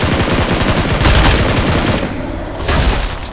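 Gunfire in the PUBG Mobile battle game, loud rapid automatic bursts packed tightly together, dense and continuous for a few seconds with no talk.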